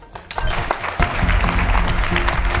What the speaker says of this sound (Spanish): vamos a recibir con un fuerte aplauso a nuestro compañero